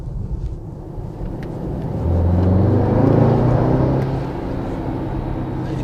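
A 2019 Mercedes-AMG GT63S 4-Door Coupe 4MATIC+ in comfort mode, its engine and exhaust giving a steady low rumble that swells as the car accelerates, then eases back to a constant drone.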